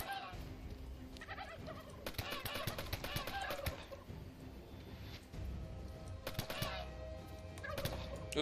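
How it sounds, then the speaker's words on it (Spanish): Killer turkeys in the video game How to Survive 2 gobble in repeated rapid bursts, several overlapping calls rising and falling across the clip, fairly close and loud over low game ambience. "Los pavos asesinos vuelven."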